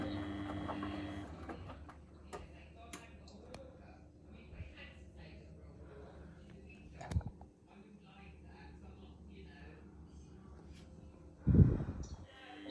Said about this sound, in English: My motor is so whiny.